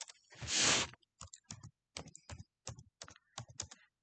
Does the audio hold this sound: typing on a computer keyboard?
yes